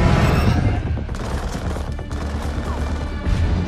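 Heavy, sustained gunfire crackles through a battle in the video game Call of Duty: Infinite Warfare, dense overlapping shots loud and close with no talking.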